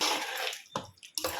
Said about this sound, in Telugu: వాటర్ అయితే వేసుకోవాలి ఫ్రెండ్స్, కొంచెం లైట్గా వాటర్ వేసుకోవాలి.